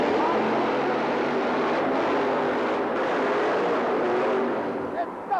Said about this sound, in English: The two fastest trucks on the premises go head-to-head for the championship here in Roanoke, Virginia.